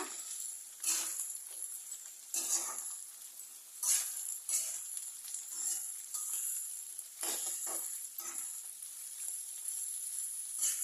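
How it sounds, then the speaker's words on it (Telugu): Small bitter gourds deep frying in a generous amount of hot oil give a steady, close sizzle with bright crackling bursts that rise and fall in waves throughout, no voices. "ఇగో డీప్ ఫ్రై లాగా ఇట్లా ఫ్రై చేసుకోవాలి ఫ్రెండ్స్"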